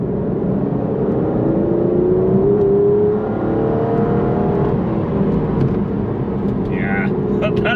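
A 690bhp twin-turbo Aston Martin Vantage V12 pulls steadily in third gear, its engine droning with a rising whine close to the microphone while someone talks over it.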